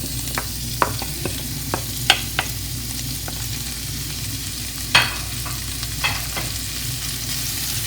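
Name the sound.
chopped onions frying and stirred in hot oil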